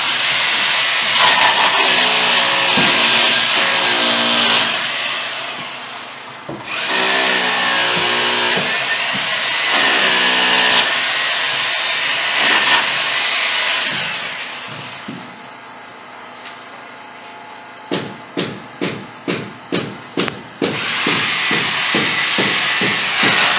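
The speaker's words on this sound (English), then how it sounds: "Using a hammer drill now to drill the holes." An SDS hammer drill with a 3/16 bit whines steadily in long bursts while drilling holes in block, then about seven short, sharp hammering bursts in quick succession, loud and close.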